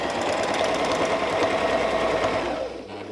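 Sewing machine stitching a quilt with ruler work, eighth-arc template guiding the needle, running at a fast even whirring hum with rapid needle chatter, close and loud, then slowing and easing off near the end.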